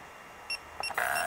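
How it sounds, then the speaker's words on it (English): A Pavo Pico device gives small electronic beeps a few times in quick succession, short and high-pitched, ending in a longer tone over quiet background noise. "And then it'll go beep beep."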